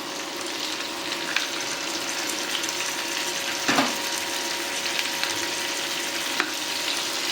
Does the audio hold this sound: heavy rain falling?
no